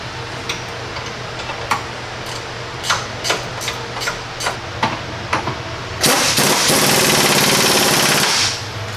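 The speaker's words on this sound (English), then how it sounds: "We're going to go ahead and tighten down those pinch seam nuts onto the studs" Impact tool tightening pinch seam nuts onto step slider studs during a Rock Slide Engineering step slider install: a series of sharp, irregular rattling bursts, then a sustained loud whirring hammering run of about two seconds, close up.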